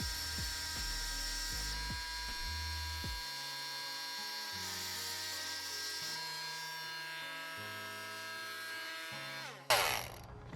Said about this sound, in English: You just want to cut through the hose connector itself